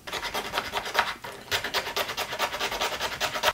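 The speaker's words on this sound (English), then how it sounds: "I think I need to sand out one of the edges on that" The edge of a 3D printed plastic bandsaw blade guide is sanded by hand in quick back-and-forth rasping strokes, a steady rhythmic scratch with one brief pause, close and loud.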